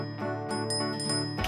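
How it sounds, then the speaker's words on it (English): A lucky bell in Thomas & Friends: All Engines Go! jingles brightly in a quick series of tinkling rings over a sustained musical backing, loud and close, with a stronger shake at the end. "I've got a special bell that takes care of it all"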